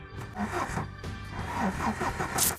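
An engine is cranked over, giving a continuous churning, rattling mechanical noise that rises and falls in loudness, close and fairly loud.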